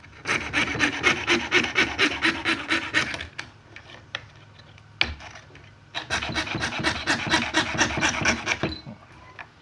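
Rhythmic back-and-forth hand sawing around a metal amulet, loud and close: two long bursts of rasping strokes with a pause of lighter scraping between them.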